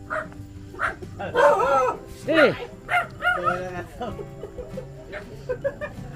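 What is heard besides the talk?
dogs barking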